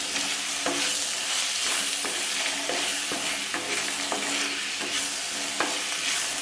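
Tomato and curry leaves for a Kerala crab curry sizzle loudly in a pan while a spoon stirs them in repeated scraping strokes, all close and with no voice.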